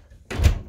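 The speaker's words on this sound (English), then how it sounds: "Close that door." A door closing at home: a short soft thunk after a brief quiet moment, close and fairly loud.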